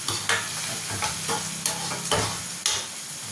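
Onions fry in a pan for chicken fry, a bright close sizzle punctuated every half second or so by loud scraping strokes of a spatula stirring, with no speech.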